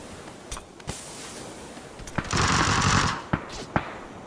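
Gunfire from a PUBG match on PC, with a few separate sharp shots followed by a sustained burst of suppressing fire lasting about a second, then more isolated shots, loud and close.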